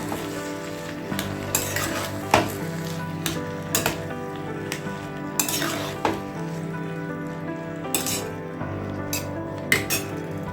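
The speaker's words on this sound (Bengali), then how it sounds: "এটার মধ্যে এই লাউটাকেও দিয়ে দেব দেওয়ার পরে একটু সুন্দর করে মিশিয়ে দেবো" Bottle gourd is mixed into a hot cooking pan, with steady frying sizzle under irregular scraping and clinking of a spatula against metal, close by and without speech.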